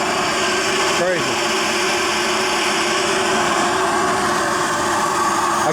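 A 1930s Carling steam turbine engine, rated 10 hp at 1800 rpm, runs with a steady, dense whirring hiss and hum, close and continuous with no break.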